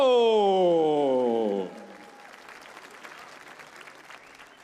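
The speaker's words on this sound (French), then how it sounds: "Je vous demande d'applaudir une nouvelle fois" Audience applause at the Tour de France 2016 team presentation ceremony for the Lotto Jumbo team, steady clapping rising under a sustained tonal musical swell that cuts off, leaving the clapping alone and thinning out.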